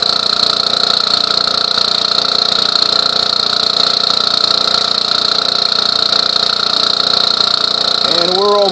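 A compressor runs steadily, drawing vacuum for a homemade vacuum former. Its continuous droning hum with a high tonal whine lasts throughout, and a voice speaks briefly near the end.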